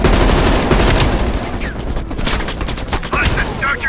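Heavy machine gun fire in the Call of Duty Cold War video game: dense, loud sustained bursts of automatic gunfire with sharp cracks and some whizzing, continuous throughout and mixed with battle noise.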